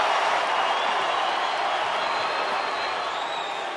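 Wrestling arena crowd at SmackDown chanting and roaring at Kurt Angle, a dense, loud, continuous wash of many voices that barely eases over a few seconds.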